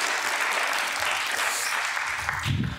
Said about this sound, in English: give those ladies a big round of applause